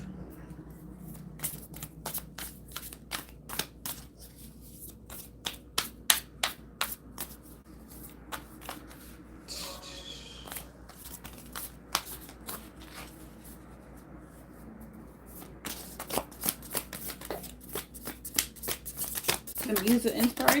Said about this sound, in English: I was just shuffling this, put the cards back, and this popped out again for you.